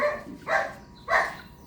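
A dog barks twice, a pair of sharp, fairly close barks about half a second apart, heard indoors over a low background hum while someone checks an oxygen supply and breathing bag.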